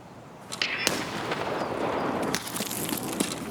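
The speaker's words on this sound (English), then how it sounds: "Fragmentation grenades explode in a sphere of danger and death" A fragmentation grenade goes off in SPT-AKI Tarkov with a sharp crack, followed by a sustained noisy roar and debris rumble lasting a few seconds, alone without talk.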